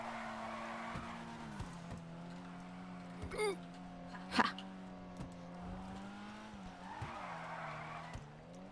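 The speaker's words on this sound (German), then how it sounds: "Und driften." A car drifting in GTA Online, its engine droning steadily while brief tire squeals break through in short bursts, the loudest one midway, all fairly quiet and distant with no talking.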